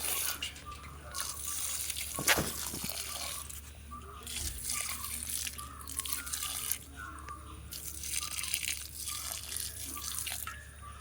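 Water is poured over a freshly repotted ground orchid: a close, uneven splashing and trickling stream, broken by a few louder knocks and drips.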